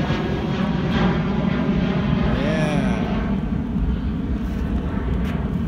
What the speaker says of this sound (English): Bye bye, plane.